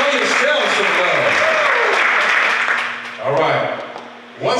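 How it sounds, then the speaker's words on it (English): A studio audience at a relationship talk show claps and cheers, a dense wash of applause that dips briefly and swells again, close and loud. "Come on, give yourselves a round of applause."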